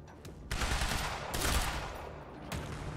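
Gunfire in the Quantum Break video game, with a sniper firing: loud broadband bursts of shots that start sharply, swell and trail off, with a fresh blast near the end.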